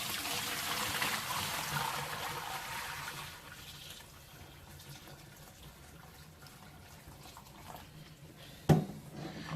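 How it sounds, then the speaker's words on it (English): Hot water from a lasagna noodle pot pours into a sink in a kitchen, a loud splashing rush that fades to a softer trickle, followed by a sharp clunk near the end. "Pour it out a little bit."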